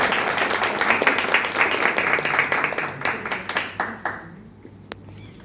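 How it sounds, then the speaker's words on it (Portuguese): A small audience at a book launch claps for a speaker called to the front, brisk close hand claps that thin out and fade to a few stray claps by the end. "E uma salva de palmas para ele."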